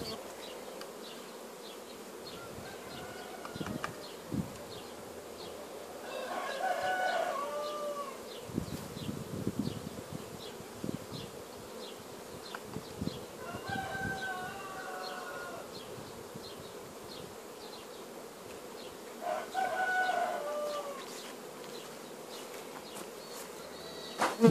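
Honey bees buzzing around hives during a spring pollen harvest, a steady outdoor drone with individual bees swelling louder as they fly close past, no voices.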